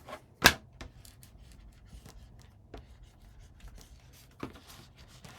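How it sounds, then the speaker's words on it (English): Chipboard pieces for a handmade mini album being burnished with a tool, producing soft dry rubbing and scraping strokes, one sharp scrape at the start and scattered quieter rubs after, close and without voices. "when I'm burnishing, I'm trying to make sure that all 3 of these chipboard pieces are at the same level"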